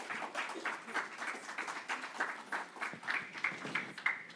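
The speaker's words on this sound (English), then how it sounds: "Can we give them another round of applause?" A small audience at a school board meeting applauds, a light, sparse patter of hand claps in quick uneven rhythm, fairly faint and close-miked, lasting a few seconds.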